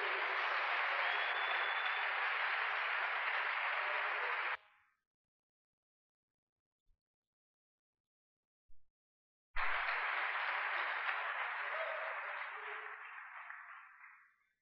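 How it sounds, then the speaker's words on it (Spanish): Church congregation applause during a sermon, a full burst of clapping that cuts off, a few seconds of near silence with faint thumps, then a second round of applause that gradually tapers away. "Un aplauso para el Señor fuerte"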